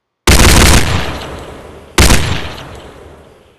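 Two loud gunshot blasts from a video game weapon, each with a sharp onset and a long decaying tail, spaced about two seconds apart with no talking.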